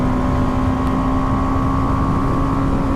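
A BMW G310R motorcycle fitted with a BMC air filter runs with a loud, steady engine drone that holds one sustained tone across the whole stretch, close by and with no voices.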